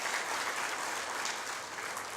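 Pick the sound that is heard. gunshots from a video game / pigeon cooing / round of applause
round of applause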